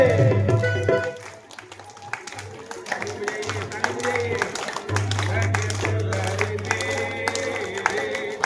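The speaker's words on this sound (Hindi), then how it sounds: "ताली बजाते रहिए।" An audience at a devotional gathering claps in rhythm along to a bhajan while a singer's voice and accompaniment carry over it, the steady beat of hands running throughout beneath the music.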